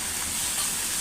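Onion sizzles in a hot pan for a brief moment, a steady close frying hiss with no talking.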